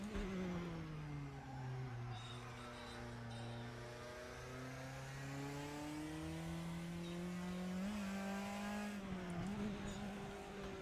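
A Praga R1 race car engine in RaceRoom drones steadily up and down through the gears, heard close as an onboard sound with shifting revs over about eleven seconds, quiet overall.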